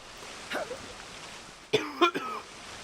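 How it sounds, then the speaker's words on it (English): A dry cough, heard as a brief throat sound near the start followed by a louder cluster of two or three harsh coughs, close and alone in a quiet room. "It's the stupid dry cough."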